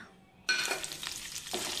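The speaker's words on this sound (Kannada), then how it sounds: "ಈಗ ಒಗ್ಗರಣೆಗೆ ಶುಂಠಿ, ಹಸಿಮೆಣಸು, ಕರಿಬೇವು ಹಾಕೋಣ." Ginger, green chilli and curry leaves hit hot oil for a tempering, bursting into a sudden loud sizzle after a quiet moment, then settling into a steady close crackle.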